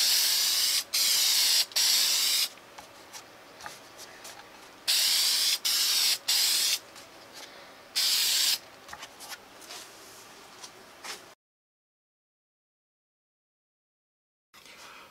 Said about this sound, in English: I'm going to finish this with this clear aerosol lacquer from Minwax